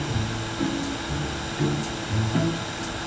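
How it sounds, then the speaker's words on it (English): A vacuum cleaner runs in the Roblox game Brookhaven, a steady, close droning motor hum with slight swells in level and no voices over it. "Here is this boo-boo vacuum. I hope it still works."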